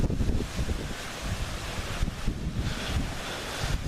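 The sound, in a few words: wind blowing into the microphone outdoors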